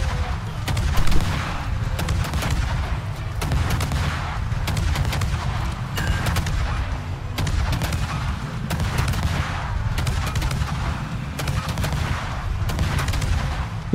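Warship guns fire at the battleship Wisconsin in a naval video game, a rapid succession of booming salvos and sharp cracks repeating throughout, loud and continuous over a low rumble.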